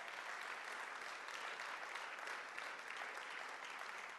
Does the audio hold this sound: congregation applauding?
yes